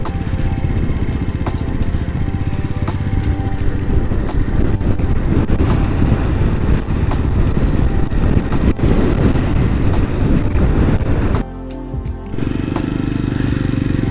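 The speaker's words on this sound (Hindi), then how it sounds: "काफ़ी हवा चली हुई है और काफ़ी रिस्की रोड है ये।" Strong wind buffets the microphone on a risky mountain road in Ladakh near Shyok, heading toward Pangong Lake, a loud continuous rumble with gusty swells that drops away briefly near the end, with no voices.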